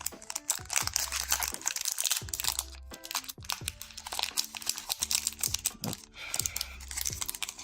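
Pokémon booster pack wrappers crinkle and tear in close, busy bursts of rustling foil, with a few sharp rips and handling clicks, and a brief spoken word.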